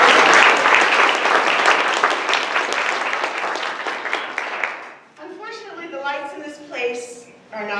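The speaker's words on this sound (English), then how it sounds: "So give her a round of applause." Audience applause for someone speaker being introduced at a talk on Ebola, a dense, loud burst of many hands clapping for about five seconds, then fading as a person begins speaking.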